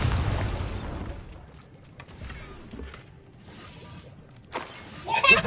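A Bombarda blast spell in a Hogwarts video game bursts loudly at the start, then trails off into sparse crackles and small debris hits before another sharp burst near the end.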